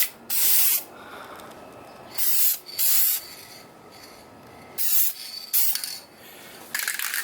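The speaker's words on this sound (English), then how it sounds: "So first step, I'm going to spray this adhesion promoter" Dupli-Color adhesion promoter sprayed from an aerosol can onto car door handles and trim pieces in several short hissing bursts, with quiet gaps between them, close by.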